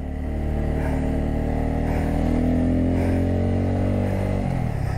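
A motorcycle runs in third gear on a hill road at Kolli Hills with a close, loud, steady engine drone that holds its note, then drops in pitch near the end.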